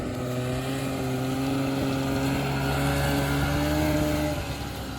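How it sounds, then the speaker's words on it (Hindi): A snow bike engine runs at Gulmarg's snowy slopes, a close, loud, steady droning hum with a slight rise in pitch and no voices over it. "हमारा स्नो बाइक्स है"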